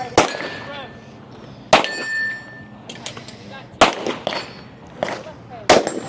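Rifle shots ring out at a women's tactical match stage, each sharp report followed by a metallic clang off steel targets, about four spaced impacts with ringing decay between them over faint background murmur.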